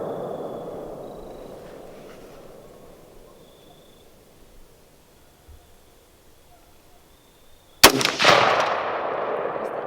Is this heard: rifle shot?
yes